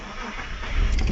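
A car engine cranks in the woods but fails to start; a brief, rough rising churn that stays loud and close throughout.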